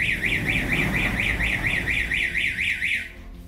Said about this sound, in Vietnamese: Khi cửa mở quá thời gian chờ, còi báo động sẽ kêu lên và nhắc nhở mình đóng cửa.